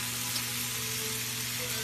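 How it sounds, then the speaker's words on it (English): Steak sizzling in a hot pan, a steady dense frying hiss with a constant hum beneath, close and continuous. "Listen to both of them. See the sizzle."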